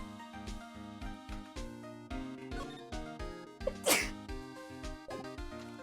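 A single sharp sneeze bursts out in the middle of a video game, standing out over rhythmic background music.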